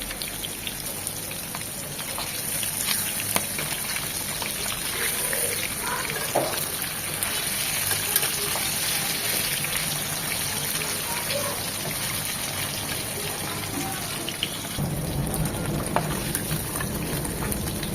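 Tilapia fish frying lightly in oil, a steady close hiss with scattered sharp pops and crackles throughout, a slightly fuller, louder sizzle in the final few seconds.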